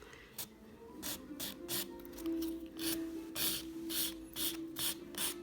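Polygel nail being filed: about ten quick, rhythmic rasping strokes, close and fairly soft, with no talking.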